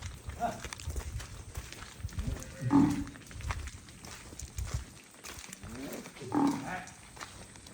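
A bull lets out two deep, drawn-out bellows a few seconds apart, heard over background chatter and outdoor noise.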